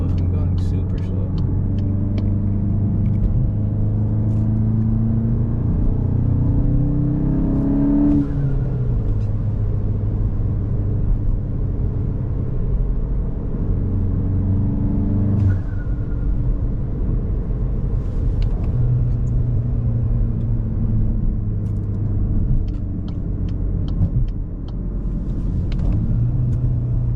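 Engine of a Volkswagen Mk8 GTI with an EQT Stage 1 tune, driving through city streets, a steady loud low rumble with gradual rises and falls in pitch as it accelerates and shifts, heard from inside the car.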